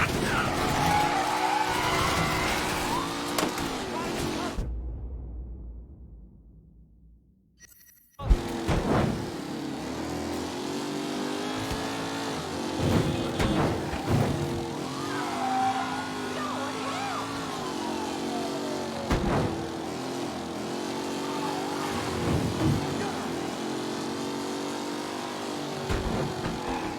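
Car in the video game Mafia III driving off, engine revving hard with tire squeal and skidding, a sudden silent gap, then continued loud engine drone with thumps and screeches as it speeds away.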